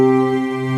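Electronic keyboard holding a thick sustained chord that layers piano, strings and an analog synth voice, steady and close throughout with no talking.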